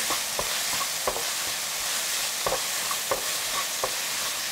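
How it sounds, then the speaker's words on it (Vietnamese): Hot oil sizzles steadily as chicken stir-fries in a pan, a utensil scraping and tapping now and then, tossing it as it fries. "Sau đó mình cho thịt gà vào xào săn."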